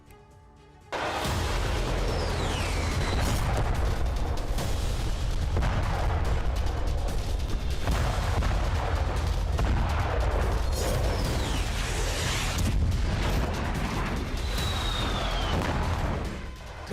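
Bombs strike Gaza in a sustained barrage, dense rumbling booms and crackling blasts layered over one another at a loud distance, with whistling sounds cutting through and no voices.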